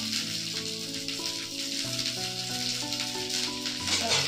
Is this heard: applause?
no